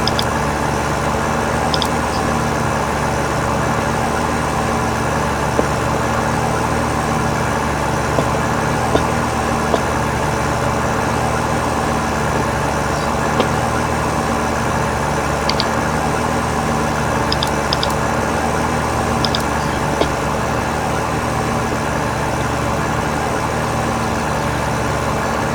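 A tractor in Farming Simulator 13 pulling a trailed mower, a steady loud engine drone with a low rumble throughout, a few faint ticks over the top and no speech.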